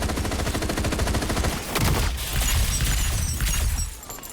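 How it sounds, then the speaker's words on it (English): Loud, rapid automatic gunfire in the shooter game FragPunk, a fast rattling stream of shots with cracks and a brief crash, fading near the end, with no talking. "that guy's audio from shooting was so bamboozling"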